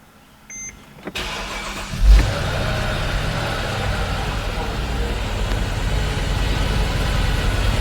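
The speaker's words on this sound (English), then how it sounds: "I'm going to start the engine." A Mercedes GL450 with faulty air suspension starts after a few clicks, with a sharp crank and a brief flare, then settles into a steady, close idle in a workshop.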